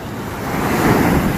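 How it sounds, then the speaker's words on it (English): Powerful ocean waves surge onto a beach beside a ravine, a loud continuous roar that swells toward the end, mixed with wind buffeting the microphone. "these waves are so strong"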